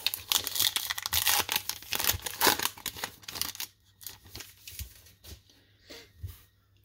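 Crinkling and tearing of a 2022 Topps Heritage baseball card pack wrapper, loud rustling crackles for about three seconds, then softer intermittent crinkles and handling taps, close up with no talk.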